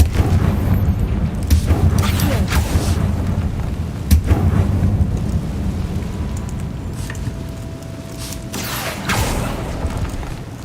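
A Confringo fire-blast spell in the Hogwarts Legacy video game lands a couple of heavy booms, near 4 and 9 seconds, over rumbling mechanical game ambience.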